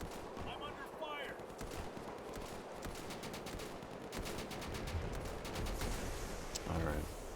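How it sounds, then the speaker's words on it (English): Rapid gunfire and machine-gun bursts in the World War II shooter Easy Red 2, a dense crackle of shots at middle distance over a continuous battlefield din. "I'm under fire."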